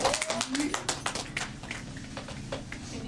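A youth group audience at a church gathering claps briefly, scattered close taps at the start fading under ongoing talk.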